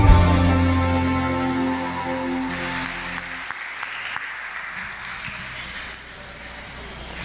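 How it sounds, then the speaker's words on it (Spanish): A church congregation breaks into applause, a dense clapping wash that builds under fading music and continues steadily, fairly loud, with a few sharper individual claps standing out. "Recibamos con un fuerte aplauso la palabra de Dios."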